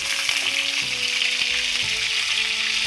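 Mustard seeds, curry leaves and green chilies sizzle and fry in hot oil in a pan for bottle gourd fry, a steady close crackle with small pops and no voices.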